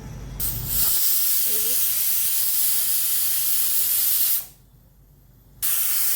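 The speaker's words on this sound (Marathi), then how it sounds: "याला झाकण लावून फास्ट गॅसवर 2 शिट्ट्या करून घेऊ." A pressure cooker of biryani on a gas stove lets out a loud, steady hissing steam whistle close by. It cuts out briefly near the end, then bursts back on.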